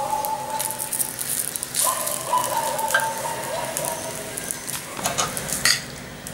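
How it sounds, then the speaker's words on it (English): Masala pav roasts in a pan, with a soft sizzle and frying crackle under frequent light scrapes and clinks of a utensil stirring and turning the bread, close and moderately loud, without talk. "Roast on both the sides."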